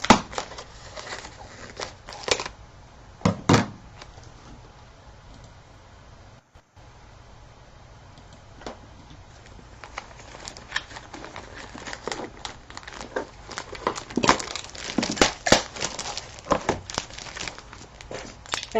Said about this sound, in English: you can just easily open it with a pair of scissors